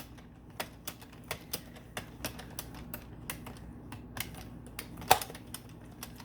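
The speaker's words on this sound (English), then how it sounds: "every time I do a first round, it makes that clicking noise." A knitting machine's light mechanical clicks tick out at a steady, uneven pace on a first round, faint and close, with one sharper click near the end.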